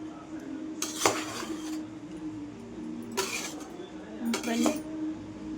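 A spoon scrapes and clanks against a pot while paneer biryani is mixed: three separate metallic stirring bursts, close up.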